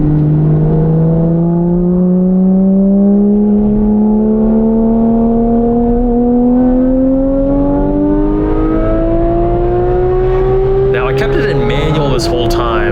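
A 2018 Porsche 911 GT3 (991.2) accelerates hard on a race track. The loud, close engine note climbs steadily in pitch for several seconds, then drops abruptly at a gear change near the end.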